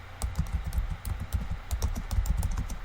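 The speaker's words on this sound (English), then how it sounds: "you guys can probably hear me typing" Quick, irregular keyboard typing up close, a run of light key clicks and taps with no talking over them.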